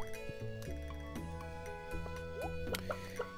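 Crops get watered in the farming game Stardew Valley. Soft, quick drips and plops of water land in short bursts over a faint, tonal game-music background.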